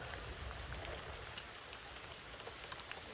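Steady rain patters down on a gutter, a dense, even hiss with scattered brighter drops, fairly close and continuous throughout.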